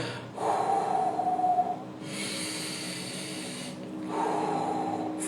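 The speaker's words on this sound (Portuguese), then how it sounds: "respira, fecha seu olho, puxa o ar, segura" A slow, deep breath drawn in through the nose and held during a guided breathing exercise, heard as two long airy inhalations with a pause between, close and fairly loud, with no talking.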